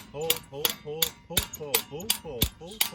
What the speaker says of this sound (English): Gently with a hammer.